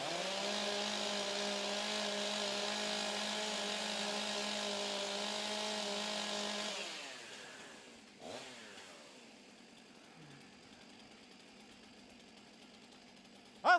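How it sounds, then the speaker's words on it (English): Several STIHL chainsaws rev steadily at a timbersports competition, a loud sustained buzzing drone for about seven seconds before dropping away to a quiet idle with a brief knock. "warm up your saws."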